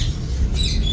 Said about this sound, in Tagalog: Ay mga ibon, nagdapuan na.